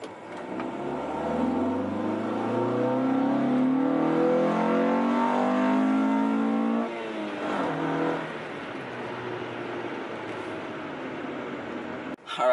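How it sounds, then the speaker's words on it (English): A Honda Integra with a B20 engine swap pulls hard, its engine note climbing steadily through the revs, then a shift and renewed acceleration, loud and close from inside the car. "what it is to drive a B20 Integra doing a pull"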